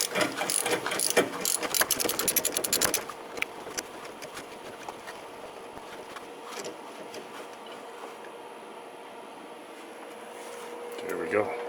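A ratchet wrench clicks rapidly to loosen 12mm bolts on a front motor mount bracket of a Santa Fe engine, a dense run of clicks for about three seconds, then fainter mechanical noises and a speaking voice.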